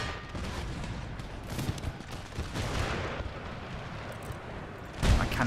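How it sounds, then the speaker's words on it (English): Cannon volley in the strategy game Empire Total War, Ottoman Empire campaign: a dense, continuous rumble of artillery and musket fire with scattered bursts, ending in a louder close blast near the end. "My cannons finished their volley."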